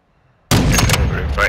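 Close, loud gunfire bursts from a nearby firefight in the shooter game Warzone 2, erupting abruptly out of near silence and continuing densely, with voices talking over the shots.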